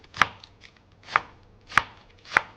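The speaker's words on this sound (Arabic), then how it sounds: "وخلوني افرم الخس واضيفه عليهم" Lettuce chopped with a knife on a board, four crisp separate chops at an uneven slow rhythm, close and clear with no talk.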